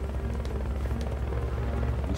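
Helicopter rotor thumping in Metal Gear Solid: Peace Walker, a steady rhythmic chop at moderate level with no talk over it.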